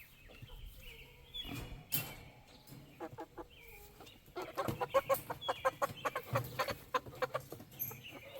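A small backyard flock of roosters and hens clucks and murmurs nearby, with scattered short calls and soft scuffling that grow busier and more frequent toward the end.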